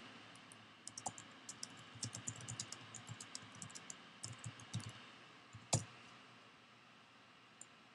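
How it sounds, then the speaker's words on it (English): Fingers tap out a short caption on a computer keyboard in bursts of quick, light clicks with brief pauses and one louder keystroke, faint and close with no talking. "I can type a little caption underneath."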